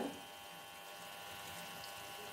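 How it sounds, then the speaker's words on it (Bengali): Water runs steadily into a pot for a small carp (chara pona) fish curry, a soft even rush of pouring water that stays at a constant level throughout, with no voices. "এবার যেটা করব সেটা হচ্ছে জল দেব"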